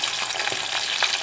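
Small land shrimp frying in a pan give a steady, loud, close sizzle with light crackles throughout, and no voices.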